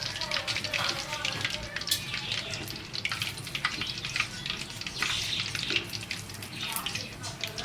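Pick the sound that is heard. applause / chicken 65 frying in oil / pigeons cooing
chicken 65 frying in oil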